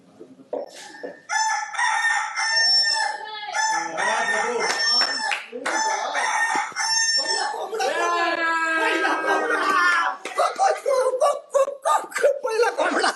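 A rooster crows loudly, with several drawn-out, strongly tonal calls back to back, played inside the Bigg Boss Marathi house during a show task.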